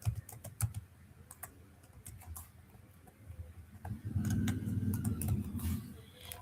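Fingers type on a computer keyboard, a sparse then quicker run of close, sharp key clicks over a faint low background hum.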